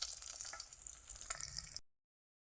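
Fish sizzling steadily in hot oil, a bright continuous hiss with small crackles, close and moderately quiet, cutting off abruptly.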